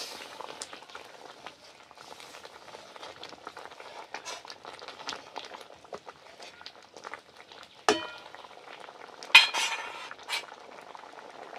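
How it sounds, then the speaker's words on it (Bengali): Boiled masoor lentil dal being mashed with a metal ladle in a pot, soft scraping, stirring and squelching throughout, with a few sharper clinks of the ladle against the pot near the end. "এবার একটু হাতা দিয়ে ম্যাচ করে নেব এইভাবে।"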